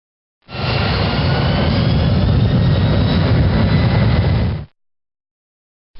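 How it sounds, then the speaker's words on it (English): Jet engine thrust reversers deployed with reverse thrust levers raised to detent 2: a loud, steady roaring rush of engine noise that rises abruptly, holds for about four seconds, then cuts off sharply, followed by a brief burst at the end. "Raise the reverse thrust levers to detent number 2."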